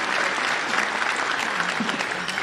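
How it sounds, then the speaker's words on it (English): An audience at an eighth grade school graduation ceremony claps for a board representative, a full, continuous burst of applause filling the hall at steady volume. "it's okay to give her a round of applause"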